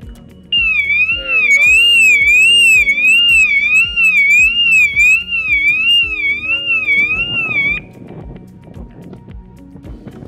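A tamper-proof wireless burglar alarm bell box screams with a loud warbling siren after its lid is opened, sounding steadily for about seven seconds before cutting off, leaving knocking and handling noises behind.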